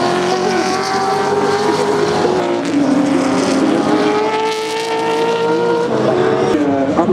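Touring Car Masters race cars at Symmons Plains roar into turn one, several loud engines howling and shifting pitch as they brake and accelerate through the corner, close to the track with no talk.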